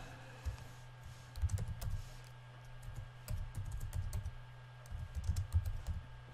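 Keys tapped on a computer keyboard in irregular bursts of quick clicks with short pauses, close and fairly quiet, no voice over it.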